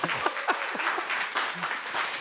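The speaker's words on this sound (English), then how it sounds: "Did somebody start to clap?" An audience claps in a conference hall during an Oxford-style debate at a policy forum, a steady ripple of moderate applause throughout with a little talk underneath.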